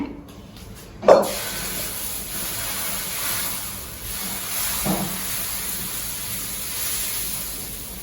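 Moong dal dosa batter hitting a hot griddle: a sharp sizzle bursts out about a second in, then settles into steady frying hiss, with a second smaller sizzle swell midway.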